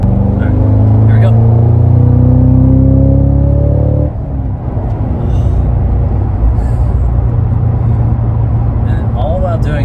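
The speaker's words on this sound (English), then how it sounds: "I'm getting the crackles from the exhaust." Loud 2022 Cadillac CT5-V Blackwing performance sedan accelerating hard, its engine rising in pitch for about four seconds before the throttle lifts into a rumbling, popping exhaust crackle, with a voice speaking over it.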